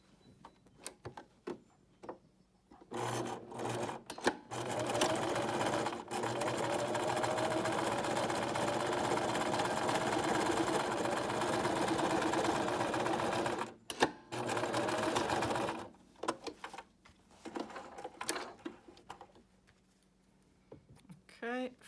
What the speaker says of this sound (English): And let's start sewing.